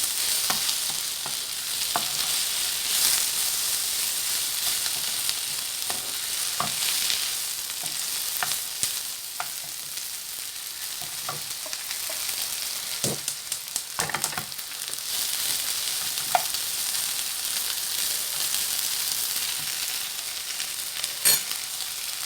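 Garlic and dried tomatoes sizzle steadily in a pan for the whole stretch, with frequent scraping clicks from stirring, close and fairly loud, and no one speaking.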